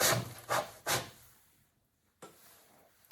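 A clay tankard held in a Giffin Grip on a pottery wheel spinning at full speed is trimmed with a tool, giving three close scraping rasps in a quick rhythm, then a pause and a softer scrape at the end.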